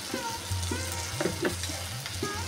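Fish head murighonto curry being stirred in a pan, a few distinct scraping strokes and soft clatters of a spoon against the pan over a low sizzle, close by, no talk.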